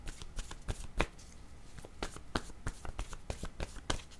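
A deck of cards is riffled and bridged in quick, crisp bursts, each shuffle a close, dry flutter, repeated about a dozen times in steady rhythm with no talking.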